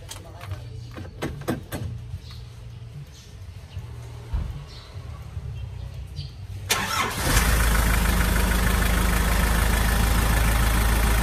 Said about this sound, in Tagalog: i-start na lang natin yung makina.